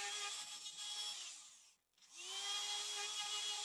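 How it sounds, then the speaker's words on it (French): A router cuts pocket holes into the male half of a kitchen countertop joint, a loud steady high whine that dips briefly to near silence as the motor spins down and back up. "Je peux maintenant fraiser les trous d'encastrement dans la partie mâle du joint."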